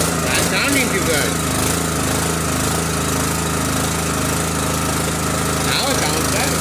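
Small gas engine on a Forest King log splitter running steadily at full throttle, a loud continuous rough drone with mechanical vibration and no pauses, the hydraulic system still smoking after a valve exchange.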